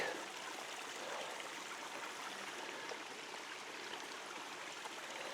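Shallow stream in the Swain, North Carolina area flowing over rocks, a soft steady rushing and gurgling wash, faint and continuous with no voices.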